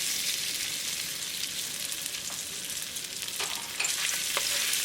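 Ginger sizzles in a tablespoon of hot olive oil in a pan for a cashew chicken stir fry, a steady close crackling hiss with a few louder pops and stirring scrapes, no voices.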